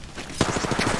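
A short, quick burst of automatic gunfire in Apex Legends, several close rapid shots following a sharp onset.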